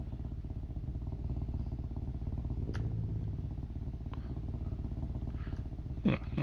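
A car engine idles with a steady, low, even rumble throughout, and a couple of faint clicks and a brief knock sound near the end.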